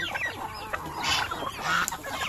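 Farmyard fowl, turkeys, chickens and geese kept together, cluck and honk in a close, overlapping chorus of short calls with no talking.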